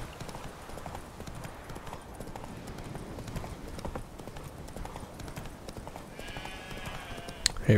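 Horse hooves clip-clop at a steady trotting rhythm in The Witcher 3 video game, moderately loud and continuous, with a brief burst of other game sound near the end.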